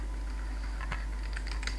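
Rapid typing on a computer keyboard, a quick irregular run of light clicks growing denser toward the end over a steady low hum.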